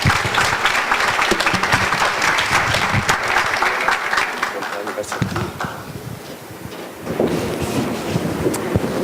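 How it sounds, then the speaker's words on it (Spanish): An audience at a stem cell scientific congress applauds a speaker with strong, sustained clapping that fades near the middle and then resumes, with some speech and wind-like rumble mixed in. "Les damos con un gran aplauso al doctor Ibarra"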